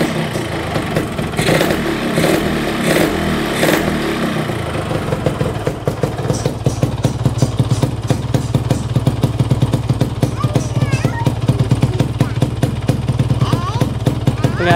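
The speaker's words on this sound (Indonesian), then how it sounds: "kita hidupin dulu motornya." A two-stroke motorcycle engine running on Top1 2T low-smoke oil is started and settles into a loud, rapid, rattling idle with sharp rhythmic pulses, after a few blips and some talk at the start.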